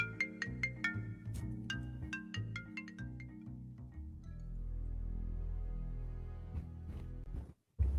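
A mobile phone ringtone plays a bright, chiming melody of quick repeated notes that carries through the first half, then gives way to a low steady hum and a few faint clinks before a brief silence.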